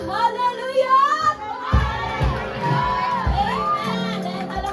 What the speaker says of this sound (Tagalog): Lahat ng handa na pwede bang makarinig ng isang malakas na hallelujah?